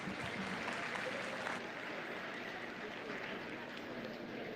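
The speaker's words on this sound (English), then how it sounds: "Let's give those guys a big round of applause." Applause from the audience at a county 4-H beef cattle show, a faint, distant, diffuse patter of clapping from a crowd that holds steady for a few seconds with a slight easing midway.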